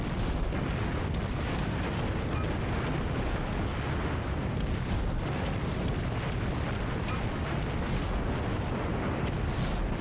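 Continuous heavy naval gunfire and explosions from a battleship firing high-explosive shells in World of Warships, a dense, loud, rumbling roar of overlapping booms with a few sharper blasts standing out, no voices.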